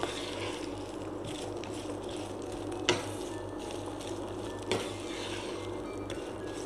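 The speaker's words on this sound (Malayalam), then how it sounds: "ഇത് കൂടി ആ എണ്ണയിൽ നന്നായിട്ടൊന്ന് വഴറ്റി എടുത്ത ശേഷം നമുക്ക് പൊടികൾ" Garlic sautés in hot oil in a pan for garlic pickle, a steady, soft, close sizzle broken by a couple of faint clicks from stirring, with no voices.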